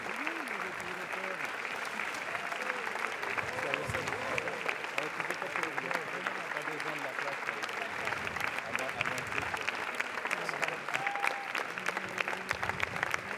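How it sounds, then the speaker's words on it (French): Sustained applause from an audience greeting the film team of Tralala at a midnight screening in Cannes, a dense steady clatter of many hands filling the whole stretch, with some crowd voices mixed in. "Applaudissements pour toute l'équipe de Tralala, présentée en séance de minuit, ici à Cannes."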